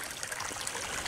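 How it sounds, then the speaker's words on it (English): Water trickling into a freshly dug shrimp pond, a soft, faint, steady babble heard briefly on its own. "you can see that the water's coming in"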